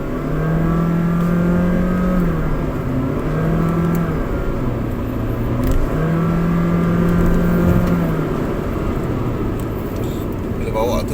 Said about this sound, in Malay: Macam ada gear change, tapi sebenarnya dia tak ada gearbox.